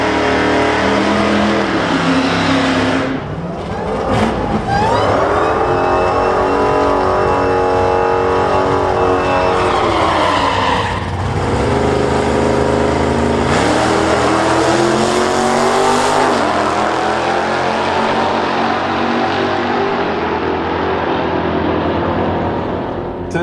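Drag race cars, including a Dodge Dart, accelerating down a quarter-mile strip, loud engines roaring and rising through gear changes close by before fading as they pull away.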